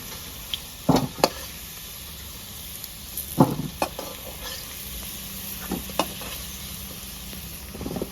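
Potatoes fry in oil until deep red and crisp. A low, steady sizzle runs underneath while a few sharp spatula scrapes and clinks stand out, with no one speaking.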